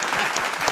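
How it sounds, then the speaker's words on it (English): A conference audience claps together, a dense, steady burst of applause filling the short moment from a seated crowd. "We got to clap again."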